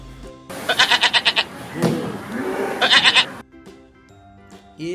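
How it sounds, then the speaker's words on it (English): A goat bleating in a children's ABC phonics song, several quick wavering bleats in two bursts over background music. "G for goat"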